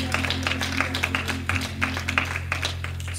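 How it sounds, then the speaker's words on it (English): A church congregation claps in praise at a tabernacle service: a steady patter of many hands, moderately loud and continuous, over a low sustained organ-like hum. "We offer up a hand clap of praise in this place."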